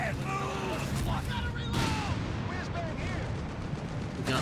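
Dense battle noise from the Company of Heroes 3 video game as a Sherman tank takes hits, with booming shots and impacts over a continuous rumble, under fast-paced commentary.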